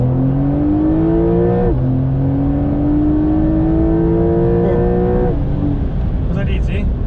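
A Porsche 911 Carrera 4 of the 992 generation, with 385 horsepower, revs while driving; the engine note climbs steadily through gears with brief dips at each shift, loud and continuous inside the cabin as people talk.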